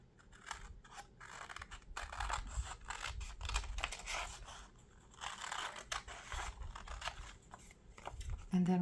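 Scissors trim paper for an index card collage: a close run of crisp, irregular snips and paper rustles, fairly quiet, with no talking.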